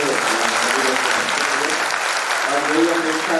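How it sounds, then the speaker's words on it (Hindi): A large crowd at a youth camp claps loudly and steadily, a dense continuous wash of applause with voices faintly mixed in. "आप लोग एक बार जोरदार तालियां बजाइए"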